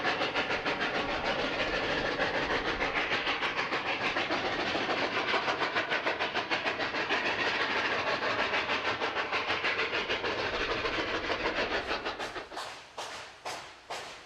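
Two D&RGW narrow gauge steam locomotives pull a train up a 4% grade between Chama and Cumbres, rapid loud exhaust chuffs pounding steadily, then slowing into separated blasts near the end.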